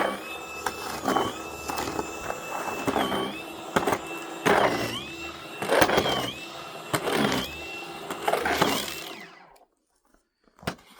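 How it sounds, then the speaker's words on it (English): A MELLIF cordless electric snow shovel runs with a steady motorized whine and scraping, churning crunches of snow, close and continuous before it cuts off into near silence. "The thing that's nice about electric snow shovel and snow blower is that even though it's super early in the morning, it's not too loud."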